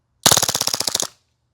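A WE M712 Mauser airsoft gas pistol fires a full magazine on full auto, a close, loud, rapid burst of about fifteen shots lasting under a second before cutting off.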